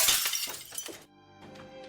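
Glass shatters in a burst of bright, crashing fragments lasting about a second, then gives way abruptly to soft sustained music.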